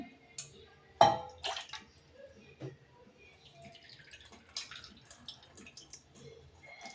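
Pani puri water strained through a filter, with a sharp splash at the start and then quiet, scattered drips and trickles close by.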